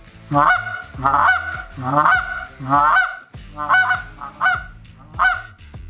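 A goose call blown with cupped-hand positioning gives seven loud, evenly spaced honking notes, each a short two-toned blast with breaks between, close and alone.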